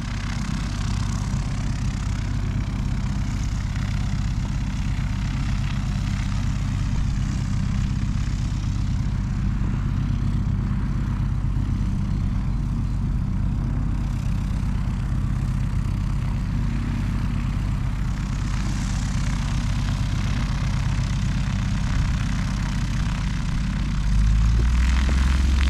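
A small propeller glider tow plane engine drones steadily nearby, a continuous low rumble that holds level throughout, with no talking.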